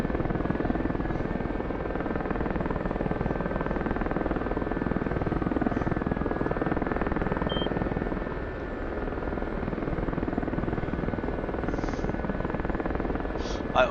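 Gazelle helicopter in flight, its main rotor and turbine engine making a loud, steady, close-up drone with a faint high whine that continues without a break.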